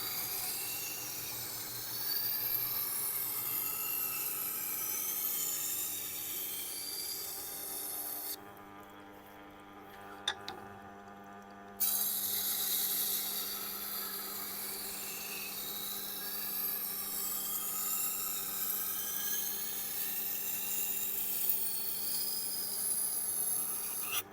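A knife blade is drawn in steady, continuous rasping passes across a Blackstone sharpener's abrasive surface, with a brief quieter break midway; close and even in level.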